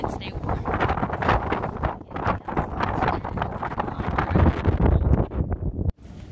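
Strong gusts buffet the microphone on a foggy, chilly mountain summit along the Appalachian Trail, a loud, uneven roar swelling and dipping throughout, with voices speaking beneath it.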